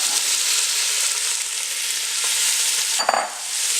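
Chopped onions sizzle steadily in hot oil and beef fat, a close, even crackling hiss with a brief stir or scrape of the pan near the end.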